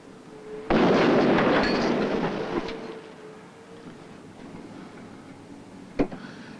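A large explosion set off to simulate earthquake shaking bursts in with a loud, rumbling roar that decays over about two seconds, followed later by a single sharp thud.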